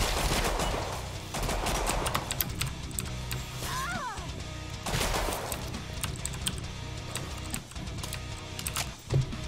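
Shotgun fire in a wave-based video game: loud repeated blasts in dense bursts, with clattering impacts and a steady layer of game noise.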